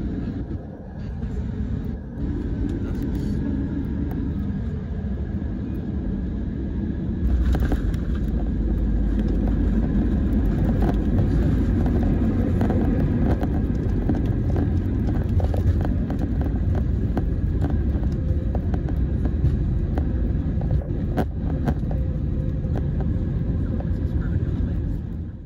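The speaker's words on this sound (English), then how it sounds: "Okay, and we're going into land now" Steady loud rumble of a passenger plane cabin during descent and landing on a flight back to the UK from Italy, engine drone constant throughout with occasional voices underneath.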